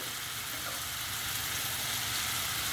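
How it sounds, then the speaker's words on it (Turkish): Mushrooms and peppers frying in a pan, a steady, even hiss of sizzling oil that holds constant and fairly loud throughout without pause. "Yarı pişmiş olacak mantarımız ki biberlerle pişmeye devam edecek."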